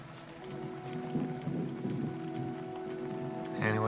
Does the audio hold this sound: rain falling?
yes